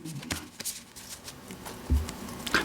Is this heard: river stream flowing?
no